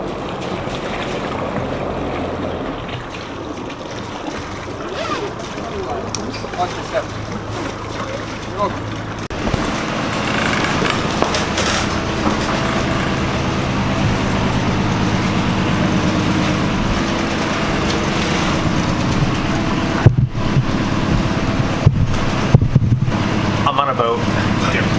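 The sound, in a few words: boat engine on river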